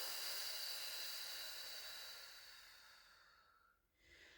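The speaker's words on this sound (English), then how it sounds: "Take a couple breaths. Inhale and exhale." Slow breathing during a relaxing core-awareness exercise on a mat, a soft airy hiss that fades and dips briefly near the end before rising again, quiet and close with no talk.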